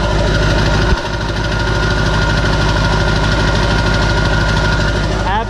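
A 7.3 PowerStroke diesel truck engine idles loudly and steadily nearby, a constant low clattering rumble with no break.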